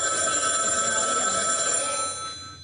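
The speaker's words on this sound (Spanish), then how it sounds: "el teléfono." An old-style telephone bell rings continuously with a bright metallic jangle, loud and sustained before tapering off slightly at the end.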